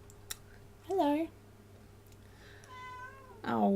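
A house cat meows twice indoors, a short rising call and then a longer, wavering one a few seconds later, close and moderately loud over a steady electrical hum.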